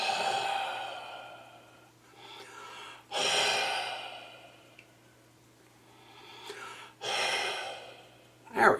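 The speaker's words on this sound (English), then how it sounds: "I'm going to take the temperature probe and breathe on it" Several slow, breathy exhalations blown onto a temperature probe, soft broadband puffs separated by pauses, close to the microphone over a faint steady electrical hum.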